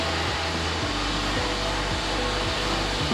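A machine cuts exhaust insert pockets in a damaged cylinder head during a repair, producing a loud, continuous whining drone with a low rhythmic undertone. No voices.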